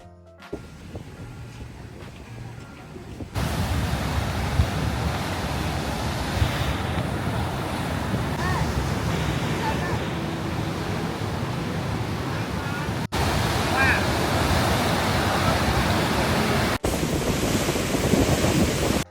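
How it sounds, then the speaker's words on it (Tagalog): Strong wind roars and buffets the microphone by the sea in Da Nang, Vietnam, on a gloomy day, with surf rumbling underneath; the gusts stay loud and steady after a brief quieter opening. "tingnan nyo naman kung gaano kalakas ang hangin ngayon"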